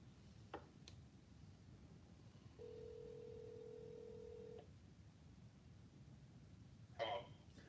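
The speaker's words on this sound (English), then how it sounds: "Let's dial his number." A telephone number is punched in: a few brief key tones, then a steady two-second tone, and a short burst near the end, all faint against quiet background noise.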